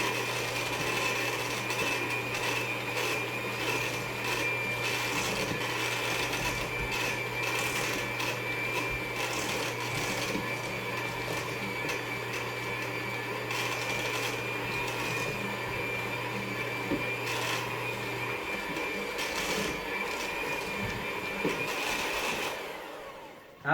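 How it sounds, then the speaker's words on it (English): An electric mixer with a whisk runs on low through sugar, a steady motor whir with a constant hum that continues almost unbroken for over twenty seconds before stopping. "You're probably going to set it to low for now, and you're just going to mix it around."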